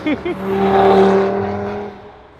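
A car pulls up close by with a steady engine hum that swells and then fades as it settles, while a voice speaks briefly at the start.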